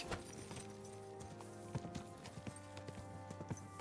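Rhythmic hoof clip-clops from a large horse in the video game Kingdom Come: Deliverance II, steady and moderately close, over a constant musical background.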